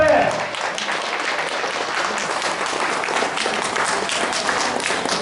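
An audience at a talk event claps steadily in dense, continuous applause, loud and close from start to finish.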